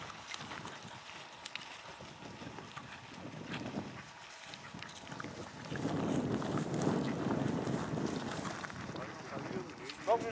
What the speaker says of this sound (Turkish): Çok rüzgar var Kemal abi.